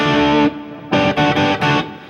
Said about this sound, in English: you can hear how clean that reverb tail is